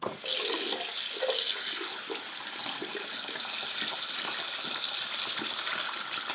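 Cold water runs from a tap onto a cloth being rinsed of blood, a steady close splashing gush with soft shifts in tone as the fabric is moved under the stream.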